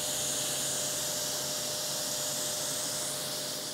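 Kranzle pressure washer rinsing a car wheel: a steady, loud hiss of spraying water that runs continuously throughout, with no talking over it.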